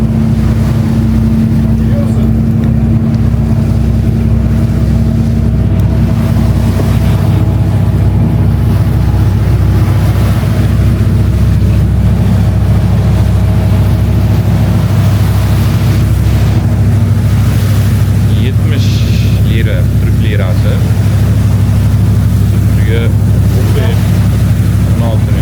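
A yacht engine drones steadily out on the open sea off Istanbul, a constant low rumble mixed with wind buffeting and water wash, with voices faintly audible over it.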